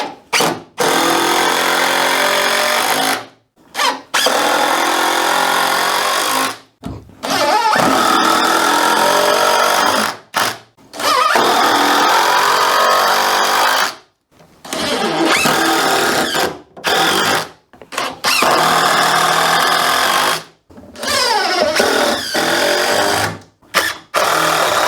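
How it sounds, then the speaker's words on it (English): A power drill drives 3-inch Torx screws into hand-made flooring. It runs in repeated loud bursts of whining motor, each lasting a few seconds, with brief silent pauses between screws and no talk. "I'm anchoring this with 3-inch Torx screws"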